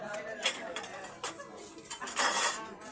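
Dirty plates, cutlery and pans clink and clatter as they are gathered up for washing, a run of close, uneven knocks and scrapes with a busier burst of rattling toward the end.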